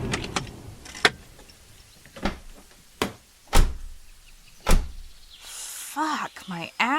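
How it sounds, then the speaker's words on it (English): Car doors open and thump shut several times in quick succession as two people climb out of a car beside a run-down barn, with sharp close knocks and rustling movement, followed by a voice at the end. "Bea and Jake exit the car and stretch their arms and legs"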